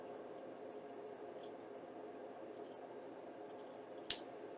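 Scissors trimming a paper band off an envelope, a few quiet snips spaced through the stretch and ending in one sharper, louder cut, close and alone in a quiet room.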